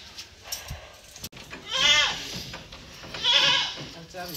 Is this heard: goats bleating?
yes